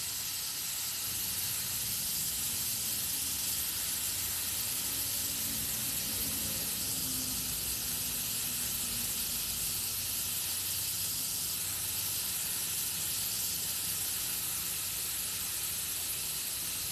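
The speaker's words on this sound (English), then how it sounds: "I do enjoy airbrushing all these details" Airbrush spraying paint with an unbroken, steady airy hiss that stays close and even throughout, with no pauses and no talking.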